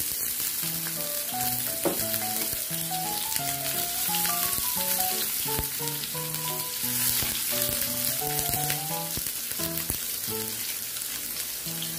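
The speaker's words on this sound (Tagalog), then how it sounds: "Nalagyan na natin ng mantika, i-add natin ang onion at garlic." Onion and garlic sizzling in cooking oil for pork giniling with potatoes make a steady, dense frying hiss throughout, playing under continuous melodic background music.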